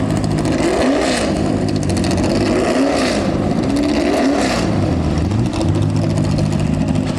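A Nissan 300ZX drifting at the Goodwood turnaround, its engine revving in repeated rising and falling sweeps over a constant roar of tyre and crowd noise, loud and continuous throughout.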